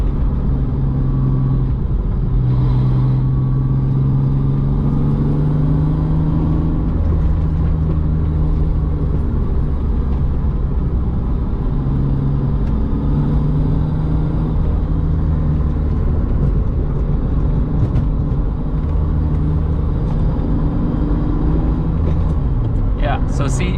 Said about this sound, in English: in that entire section I was in 4th gear